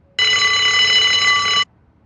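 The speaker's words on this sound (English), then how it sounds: "Is that the alarm?" A hospital alarm system goes off in a video game, sounding as a loud, steady electronic ringing tone that holds for about a second and a half and then cuts off abruptly, with no talk over it.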